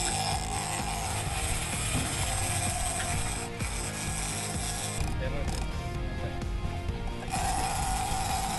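A fishing reel is cranked hard while a shark is reeled in on a boat, giving a rapid ratcheting, clicking whir that runs nearly continuously, close up, over wind and engine rumble.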